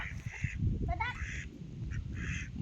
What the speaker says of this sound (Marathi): बदक पण आहेत वे कुठं आहे ते बदक तिकड बदक